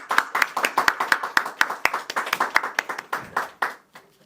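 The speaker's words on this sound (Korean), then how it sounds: "박수로 맞이하겠습니다." A small church congregation at a Sunday service claps to welcome a visiting family, a few close, distinct hand claps in a quick, uneven rhythm that slow and trail off toward the end.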